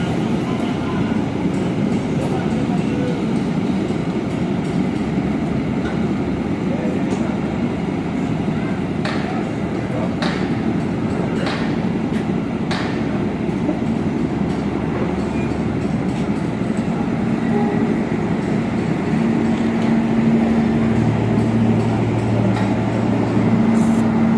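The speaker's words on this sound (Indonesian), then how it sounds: "Oke, Argo Parahyangan sudah melintas ya" Argo Parahyangan passenger train passing through Padalarang station, a steady loud rumble of rolling wagons lasting throughout with faint clattering, a few sharp high clicks midway, and a low horn-like tone near the end.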